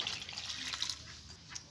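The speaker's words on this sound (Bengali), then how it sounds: "ওতে জল দিয়ে দেব।" Water splashes into a cooking pot holding cut jackfruit seeds and potatoes, a brief close hiss and trickle with a few small drips, heard alone.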